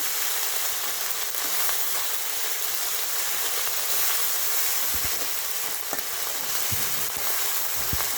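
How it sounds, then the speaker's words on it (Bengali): Ginger paste and garlic paste frying in oil after onions, a dense continuous sizzle and hiss held steady at close range, with a few faint clicks underneath. "আদা বাটা এবং রসুন বাটা দিয়ে নিলাম ভেজে নিচ্ছি"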